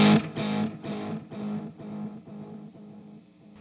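An electric guitar played through a Nux Duo Time digital delay pedal rings out one distorted chord, and clean repeats decay evenly over several seconds.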